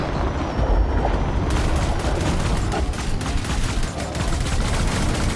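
Weapon fire against Thargoids in the space game Elite: Dangerous, a loud, dense and continuous barrage of rapid shots and rumbling blasts with no pauses.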